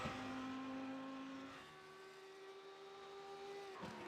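All-white Lamborghini Huracan Evo race car in iRacing at Daytona Road, a steady sustained engine drone with a gear change partway through, faint and unbroken.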